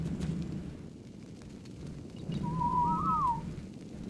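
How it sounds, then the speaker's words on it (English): A single rising and falling whistled command aimed at a tamed creature in the ARK survival game, heard over a low rumbling outdoor ambience. "I'm gonna whistle you neutral so you don't get chewed on."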